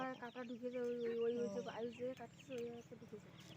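Hens cluck and call in short broken bursts close by in a rural Bangladeshi home, heard under ongoing speech.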